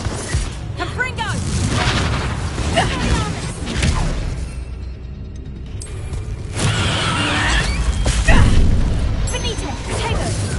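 A Confringo fire-blast spell in a Harry Potter video game, heard as repeated loud booming bursts and crashing impacts amid ongoing combat spell effects, with a voice casting spells over the din.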